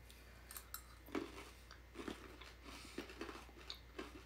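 Someone eating whole garlic cloves seasoned with pepper flakes and thyme from a jar, with several close, crisp crunchy bites and chewing in an irregular rhythm, no talking.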